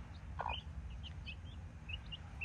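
Growing Brahma chicks give scattered high peeps, a few soft chirps spaced irregularly across a quiet, rumbling background, heard faintly without any voices.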